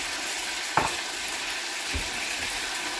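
Cashews cook in a pan with a steady soft sizzle, one sharp clink near the start and a faint dull knock later, close and unaccompanied by talk.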